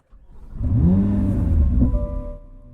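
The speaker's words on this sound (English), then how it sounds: "We'll go ahead and fire up that beautiful engine." A 2023 Chevrolet Corvette Z06 engine fires up with a rising, loud, close rumble that swells and holds steady before easing into a settled idle, with no talk over it.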